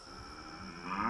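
An alien character in a children's space cartoon voices a short imitation of a cow's moo, a single tonal call about a second long that swells louder toward the end, with no other talk.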